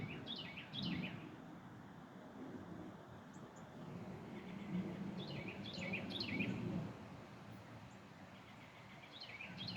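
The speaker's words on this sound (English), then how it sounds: "Just enjoying the red birds." Red birds chirp and sing in a yard, short high bursts of calls repeating at intervals, fairly faint and distant over a low background rumble of outdoor noise.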